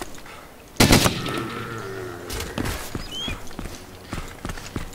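Gunshots in the survival game DayZ, one loud close blast followed by scattered quieter shots and movement sounds, with some reverberation in an enclosed space.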